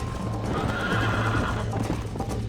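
Horse in the Red Dead Redemption video game neighs loudly and gallops, with quick clip-clopping hoofbeats under the whinny over a short close stretch.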